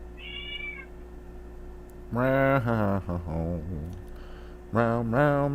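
A human voice mimics a hungry cat with a short high meow, then several drawn-out, wavering meow calls in two close bursts, loud and near.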